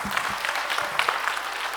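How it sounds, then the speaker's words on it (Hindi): An audience at a Dev Anand quiz event in Jaipur applauds, a dense, moderately loud patter of many hands clapping steadily throughout. "तालियां जोरों से बजाइए आपके सम्मान में।"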